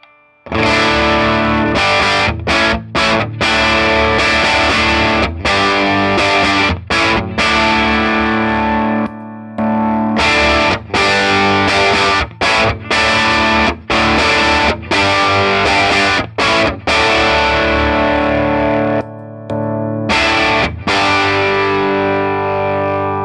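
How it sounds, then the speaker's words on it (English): Electric guitar through a Bearfoot FX Emerald Green Distortion Machine, distortion knob at nine, giving a low-to-medium gain overdrive: loud, sustained distorted chords, each ringing out and cut off by brief silent gaps in a steady strumming pattern. "with the Emerald Green Distortion machine, we have a great sort of low, medium gain overdrive sound with the distortion knob set at 9"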